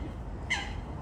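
One short harsh squawk from a bird rings out by the river at Windsor, with a quiet outdoor background before and after it.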